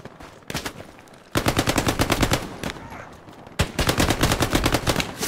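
Sustained automatic gunfire in the WWII shooter Hell Let Loose on console, with rapid rhythmic bursts starting near, a brief lull, then another long loud burst, joined by faint distant shots.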